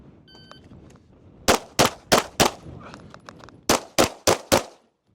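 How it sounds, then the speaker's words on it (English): Eight sharp, loud pistol shots from a Stoeger pistol during a pistol class, fired in two quick bursts of four while the shooter moves; the cracks are close and stand alone over faint background. "I'll start leaning into these as I'm still shooting."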